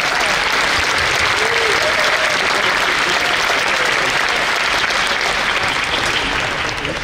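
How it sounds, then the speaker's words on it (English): A large scientific conference crowd gives loud, continuous applause for the rapporteurs, a thick unbroken roar of many hands clapping at once for the full seven seconds. "Let's give a big applause to all the rapporteurs."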